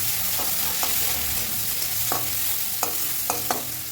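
Onion, curry leaves and peanuts fry in hot oil for a breakfast chira pulao, with a dense, steady sizzle and several sharp scraping clicks as a spatula stirs the pan up close.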